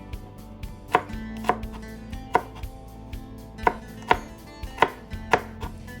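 A knife chopping onion on a cutting board, about a dozen distinct, close, moderately spaced thuds in an uneven rhythm, with no talking.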